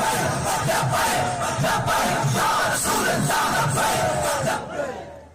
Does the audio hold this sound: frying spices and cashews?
no